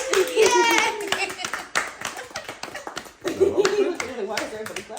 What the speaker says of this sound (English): Why is everybody clapping?